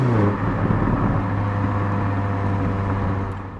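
A BMW M car accelerating hard, the kind that reaches 100 km/h in 4.3 seconds, gives a steady, loud engine drone with a strong low hum that holds for several seconds and eases off at the end.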